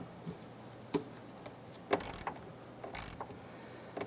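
A hose clamp is snugged down on the fuel pump assembly of a 1999-2004 Jeep Grand Cherokee, giving faint, sparse metallic clicks and a few short ratcheting bursts close by, with quiet gaps between them.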